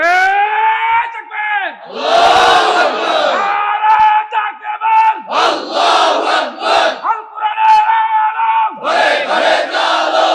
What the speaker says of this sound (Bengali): একটু তাকবীর দিয়ে গরম করে দেন জোরে সরে।